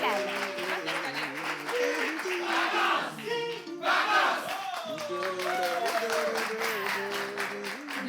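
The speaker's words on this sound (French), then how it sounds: "acclamations du public" A live studio audience at a game show cheers, shouts and applauds, with many voices yelling in pitched bursts over clapping and a brief lull midway before the roar swells again.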